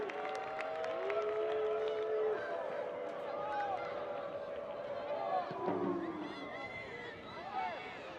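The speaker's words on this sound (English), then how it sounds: "Crowd urging the Hokies to go when they win it" Stadium crowd at a Virginia vs. Virginia Tech women's college soccer match cheering and urging the Hokies on, a sustained roar of voices heard under a commentator's play-by-play.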